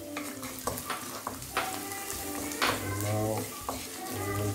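Onions being stirred as they fry in a pan, with a steady sizzle and repeated scraping strokes of a utensil, fairly close and loud, while tonal background sounds run beneath.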